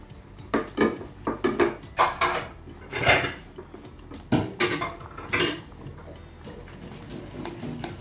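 A cooking pot of papaitan knocked repeatedly with a utensil to shake lemon peel and onion leaves loose, a series of sharp metallic taps in uneven bursts, close and distinct, fading to quieter clinks near the end.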